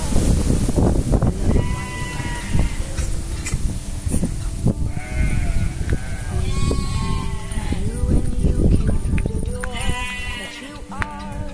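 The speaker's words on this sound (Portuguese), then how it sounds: "Achei que você tava falando da gritaria das cabras." Goats bleat and scream repeatedly on a windy Brazilian farm, loud, wavering cries rising over gusty wind noise while someone talks over the animals.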